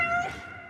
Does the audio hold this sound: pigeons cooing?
no